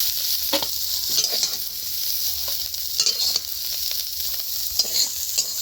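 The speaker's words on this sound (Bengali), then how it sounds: "চিংড়িগুলো ভেজে নিয়ে তুলে নিচ্ছি" Two hundred grams of small shrimp fry in oil in a wok, giving a continuous sizzle punctuated by several brief scraping stirs, close and without voices.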